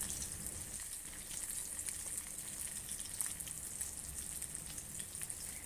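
A salmon fillet pan frying, giving a steady, fairly quiet hiss and sizzle with fine crackles throughout and no talking.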